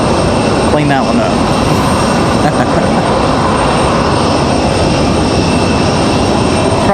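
A United airliner's jet engines roar steadily and loudly at an airport, a constant broadband rumble filling the whole stretch without letting up.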